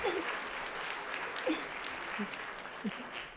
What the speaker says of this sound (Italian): Applauso a Fonico.